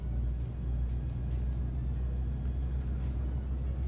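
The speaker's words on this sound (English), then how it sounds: "Ooh, it's a strain for the truck." A truck engine straining under load in Euro Truck Simulator 2, a low, steady rumbling drone that holds close and loud throughout with no speech over it.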